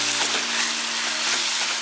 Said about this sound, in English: Cook the masala on the low flame for 5 minutes.